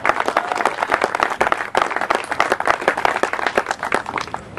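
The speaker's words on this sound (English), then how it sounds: "How about a round of applause for Orchard Lake Country Club?" Lively applause from a golf tournament crowd at Orchard Lake Country Club during the Michigan Open, steady dense clapping held at a strong level throughout.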